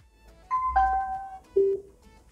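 Power-on chime of a Tronsmart Element Force Bluetooth speaker, a short rising electronic melody of a few clean tones followed by a lower closing beep, loud and close with no talk.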